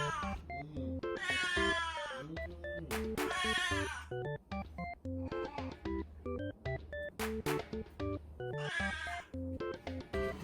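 A talkative house cat meows insistently in the morning, asking to be let out to play in front of the house: repeated loud, close, drawn-out meows and yowls with short pauses between calls, heard alone without talk.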